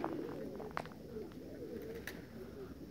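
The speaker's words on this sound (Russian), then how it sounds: "Это две горлинки были серые" Grey turtle doves coo in soft, repeated low notes, fairly close, over a steady outdoor background with a few brief sharper chirps.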